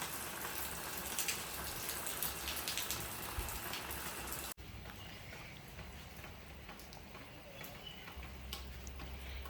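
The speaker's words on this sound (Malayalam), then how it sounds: "നല്ല മഴ പെയ്തിട്ടുണ്ട്" Heavy rain pouring steadily at a house, a dense, even hiss of drops on surfaces with scattered louder patters, continuous and fairly close, with no voices.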